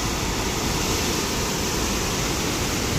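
Heavy rain falls beside the flooded Beas river in Manali during a flash flood, a loud, constant roar of rushing water and downpour with no letup or voices.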